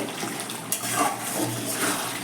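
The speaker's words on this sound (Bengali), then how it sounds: "মাছটা ফুটছে" Katla kalia fish curry simmering in a pan over a low gas flame, a soft continuous bubbling hiss with a few gentle pops, steady and close.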